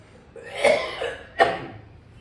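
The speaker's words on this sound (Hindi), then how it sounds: "हम खांसी आ रही है भाई, आप लोग माफ़ करिएगा" Two coughs from one person close by, a broad rough burst followed by a sharper second cough about a second later.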